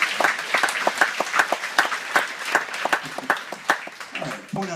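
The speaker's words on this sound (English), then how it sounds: "Give them all a huge, huge round of applause." Cruise ship show audience applauding during a stage hypnosis act, sustained crisp clapping with sharp individual claps standing out throughout, fairly close and steady.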